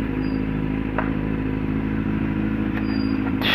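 A Kawasaki Z750 motorcycle engine runs steadily at night with a deep, even rumble and no clear revving, close and loud, with a couple of faint clicks over the drone.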